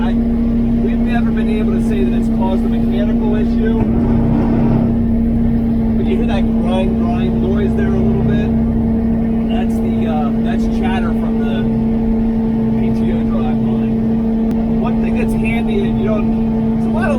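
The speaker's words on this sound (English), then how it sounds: "when you have the machine raised up a little bit, or if you're at lower RPMs, you can hear some chatter out of the drive line" Kubota RTV-X1100 utility vehicle running a V5296 snow blower, with a steady droning engine and humming drive line carrying a faint rattly chatter throughout, loud and continuous, with occasional small knocks over the top.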